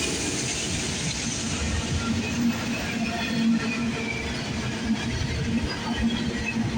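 CN freight train rolling past on the Halton Subdivision, a steady rumble of railcars with faint clickety-clack and wheel hiss, sustained and fairly close throughout, with no talking.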